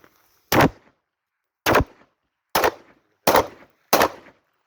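Five sharp, loud pistol shots from a Yavuz 9 Pro polymer 9mm handgun at an outdoor shooting session, fired singly at irregular intervals of about a second, each a hard crack with a brief tail and silence between.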